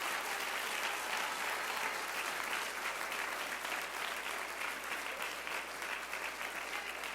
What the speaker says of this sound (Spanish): dele un aplauso, dele un aplauso.